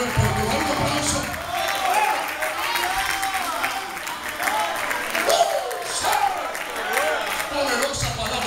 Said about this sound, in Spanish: Con todo el pueblo, dale un aplauso.